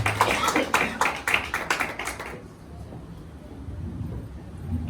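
A congregation at a Friday church worship service claps in steady, rhythmic unison for about two seconds. The clapping then stops and leaves a quieter room hum.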